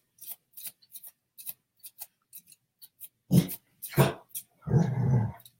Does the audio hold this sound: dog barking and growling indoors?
yes